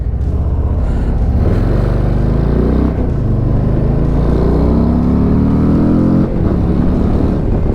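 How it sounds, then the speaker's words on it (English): A Harley-Davidson Low Rider ST with a 117 cubic inch Milwaukee-Eight engine accelerates hard through the gears, a loud, close, deep rumbling roar rising in pitch with brief dips at each shift. "Acceleration on it's awesome. 117 cubic inch Milwaukee 8, great power plant."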